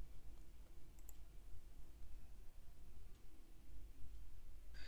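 Soft, rapid clicks of a computer keyboard and mouse come through faintly as a password is entered, set against a low steady room hum.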